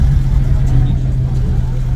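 A small Honda car rolls into a Cars and Coffee show, its engine a steady low rumble up close, with crowd chatter mixed in.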